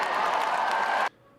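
A rally crowd for Ted Cruz applauds and roars loudly and steadily for about a second before the sound cuts off abruptly.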